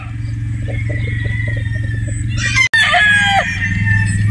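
A straight comb broodstag rooster crows once loudly and close, its call rising over a steady low background hum and lasting about two seconds.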